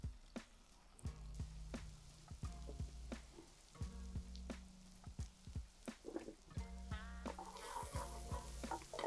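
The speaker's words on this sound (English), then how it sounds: "now our pan's come up to a temperature where we're frying." Ginger and shallots fry in chicken fat in a pan with a soft, steady sizzle. Frequent sharp clicks and scrapes of stirring utensils sound throughout, close but fairly quiet.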